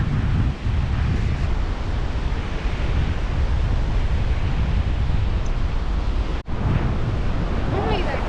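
Ocean waves surge and splash on the rugged south coast of Western Australia in a loud, constant wash, with heavy wind buffeting the microphone throughout.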